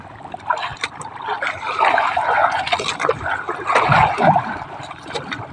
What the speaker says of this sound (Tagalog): Yun na guys, tumatalon yung mga isda